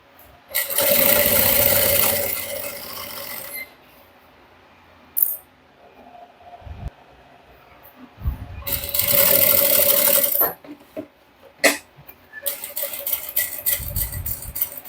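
A sewing machine stitches a handbag seam, starting with a backstitch; two loud bursts of close, continuous whirring run for a few seconds each, separated by quieter pauses with small handling clicks.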